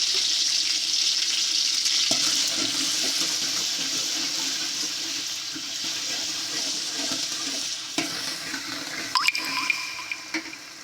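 Onions frying for biryani in a pan give a steady, loud hiss of hot oil, with occasional scraping clinks near the end and no voices.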